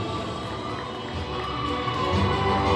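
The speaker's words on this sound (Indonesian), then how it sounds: "Boleh berikan tepuk tangan" A crowd at a diocesan media award ceremony in Manado cheers and applauds, a steady wash of clapping and shouts growing slightly louder.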